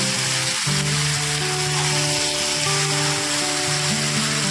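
Chicken pieces hitting hot oil in a pan for chicken kasha, giving a steady loud sizzle with a sharp clatter near the start and a droning hum running underneath.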